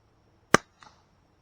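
A single sharp, muffled crack from a suppressed .22LR rifle firing Federal American Eagle Suppressor 45-grain ammunition, followed by a softer faint report, with near silence around them.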